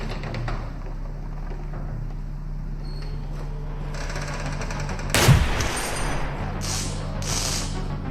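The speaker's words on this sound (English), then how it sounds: "These semi-automatic pistols sound and feel just so good in this game." A semi-automatic pistol in an ultra realistic gun simulator game fires one sharp, loud shot after a stretch of quiet background hum, followed by a couple of fainter clicks and rattles.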